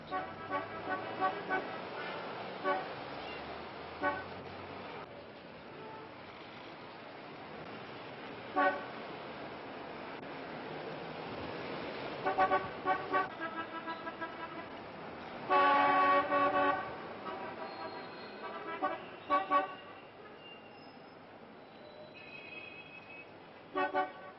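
Istanbul street traffic, with repeated car horn toots, some short and some drawn out, sounding in bursts over a constant rumble of passing vehicles.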